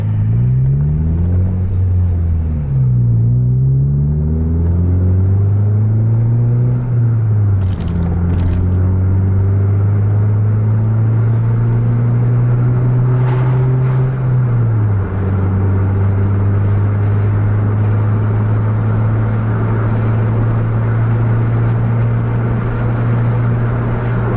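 A bus engine pulled hard at full throttle: a loud, deep, droning roar whose pitch climbs in repeated sweeps as gears change, then settles into a steady, high-revving hum. The sound is close and continuous, with no voices.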